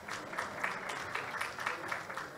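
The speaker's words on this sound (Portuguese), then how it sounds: "Palmas, gente." Audience applause at a sanitation conference panel, a moderate, steady patter of many hands clapping that continues evenly without pause, heard from some distance in the hall.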